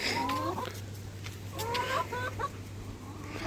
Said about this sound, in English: Bro, look at that chicken.